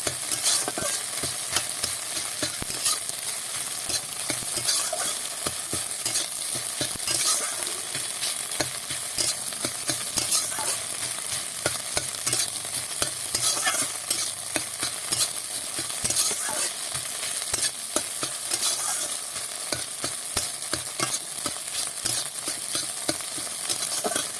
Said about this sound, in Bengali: এইভাবে ঝুরঝুরি করে ডিম কটাকে ভেজে নেব